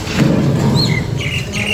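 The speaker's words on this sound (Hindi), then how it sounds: "ये देखिए, ये वो कबूतर है और ये अभी बैठी हुई है" A fancy pigeon sitting nearby calls briefly with soft chirping, squawk-like notes over a low murmur of background noise, with no one speaking.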